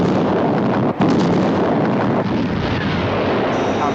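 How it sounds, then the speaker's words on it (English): A missile detonation roars as one loud, sustained broadband blast that rumbles and churns for several seconds, with a brief dip near the start before the roar swells back in. "Our visual contact with explosion. Detonation positive."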